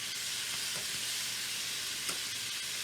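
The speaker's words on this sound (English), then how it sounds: "That's sauteing very nicely." Chopped onion sautés in a pan with a steady, dense sizzle and a few faint clicks from the pan, with no talking.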